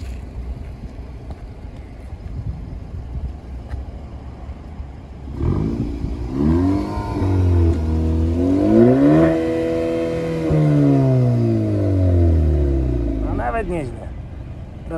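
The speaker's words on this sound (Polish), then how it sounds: "Zrobimy test dźwięku na sporcie" A Maserati Grecale GT engine in sport mode idles quietly, then revs up and down in several rising and falling sweeps, loud and close, with some talk over it.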